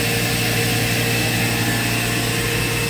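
Spindle of a 1998 Haas VF-6/50 CNC machining center running steadily, a loud continuous hum with a constant high tone throughout, no voices.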